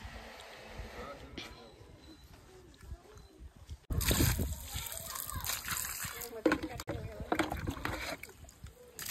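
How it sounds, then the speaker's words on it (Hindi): Water splashing and sloshing as a tractor is washed outdoors in a village, loud bursts of spray starting partway through over a steady wet background, with a voice and other talk mixed in. "देखा तो बड़े पापा धोते थे ट्रैक्टर ला"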